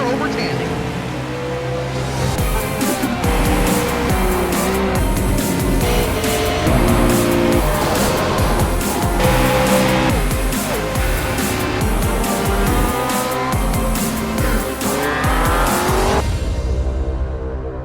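Race trucks in an Outlaw Truck Series round at Daytona, sim-racing broadcast, engines roaring continuously at close range with tire squeal and slides during a tight finish, over dense broadband noise for about sixteen seconds before cutting off.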